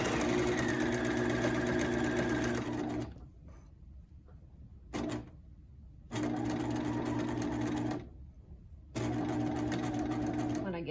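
A sewing machine runs in steady close bursts while stitching around an apron pocket, stopping twice briefly before starting again, with no talk.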